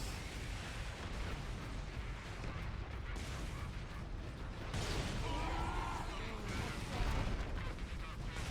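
Grenade explosions in the Warhammer 40,000: Space Marine battle game, distant booming blasts and crackling debris over a constant rumbling backdrop of combat, fairly faint overall.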